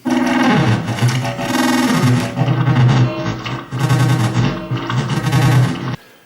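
Loud, dense electronic noise from Glitch Machines' Palindrome plugin, with stuttering, chopped bursts and sweeping harsh textures over a heavy low throb, continuous for about six seconds before cutting off.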